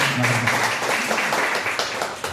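An audience breaks into applause, a dense patter of many hands clapping together at steady volume for a couple of seconds with no talk over it.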